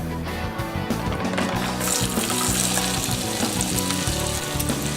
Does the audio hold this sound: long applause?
no